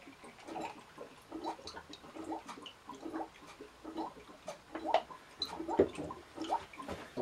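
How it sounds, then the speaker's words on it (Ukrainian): Grape juice for homemade wine is poured from a small scoop into a measuring cup, a close, uneven trickle and splash with gurgling bursts that come and go over several seconds, no speech. "Набравши невелику кількість виноградного соку, я наливаю його"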